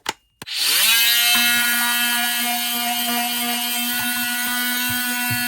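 A cordless ALDI multi-tool saw starts up with a click and then runs in a steady, loud, high-pitched buzzing whine as it cuts, with faint knocks beneath it.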